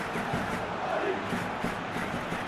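A stadium crowd in a simulated football match between Real Madrid and Rayo Vallecano gives off a steady, dense roar of cheering and chanting that stays loud throughout.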